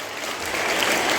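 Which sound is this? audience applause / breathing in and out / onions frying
audience applause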